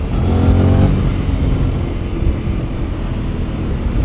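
A 2024 Aprilia Extrema 660 motorcycle engine pulls hard in dynamic mode, a loud, continuous rising roar with strong wind noise around it.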